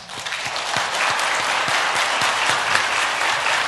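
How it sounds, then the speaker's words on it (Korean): A church congregation claps at a Sunday worship service to welcome new members, a full, steady burst of applause with a few sharper individual claps standing out near the front. "자리에서 일어나실 때 박수로 환영하며 축복하겠습니다"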